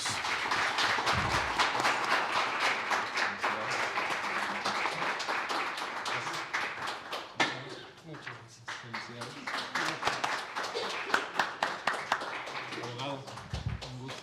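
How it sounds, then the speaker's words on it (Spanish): Audience members at a legal jurisprudence session applaud two honored guests, a judge and a lawyer, with sustained, moderately faint clapping that gradually thins out over about fourteen seconds. "Por favor, un aplauso para ellos."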